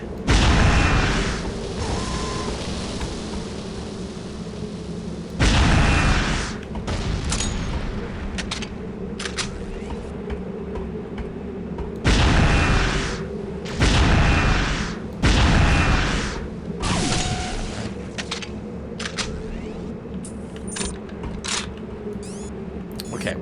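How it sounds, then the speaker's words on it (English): Deployed gun turret firing in Unreal 2: loud, heavy booming blasts in irregular clusters over a steady background rumble, with quieter mechanical clicks between the bursts. "Didn't even see the gun turret. Oh, I think because they just deployed it."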